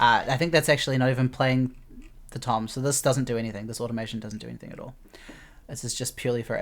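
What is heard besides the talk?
None of the usual background noises is heard.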